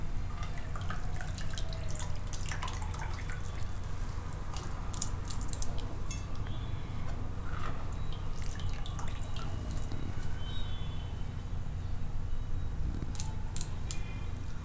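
Water drips and trickles in irregular bursts close by as boiled potatoes are drained, over a steady low background hum.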